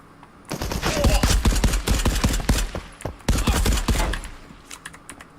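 Rapid automatic gunfire in the multiplayer shooter Marauders, long dense bursts of close, loud shots with a brief pause mid-clip, then trailing off into a few scattered sounds.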